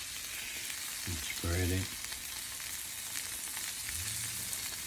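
Stuffed egg mixture fries on a stovetop, a steady broadband sizzle running throughout, with someone briefly speaking over it.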